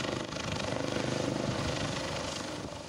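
Helicopter hovering during a cable car rescue in a remote mountain region of Pakistan, its rotor chop and engine roar steady and continuous, loud and close, with no voices over it.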